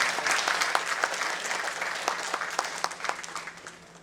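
A conference audience applauds after a morning session, with dense, even clapping that fills the room and slowly thins toward the end.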